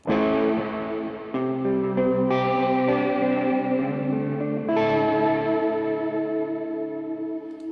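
Sustained electric guitar chords run through Guitar Rig 7 reverb and delay, loud and ringing, with three chord changes and long echoing tails.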